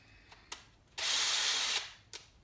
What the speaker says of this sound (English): I'm gonna drill this hole right through this thing, right in that spot.